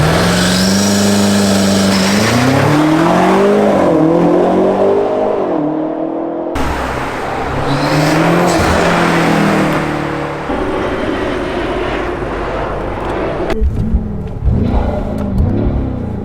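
BMW X6M SUV fitted with Eventuri intakes passes by on a cold Chicago street, its engine revving and rising to a loud roar as it approaches, then falling away with downshift burbles and pops before a second surge.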